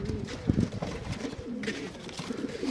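Pigeons coo in soft, low repeated phrases close by, with rustling and faint background noise around them.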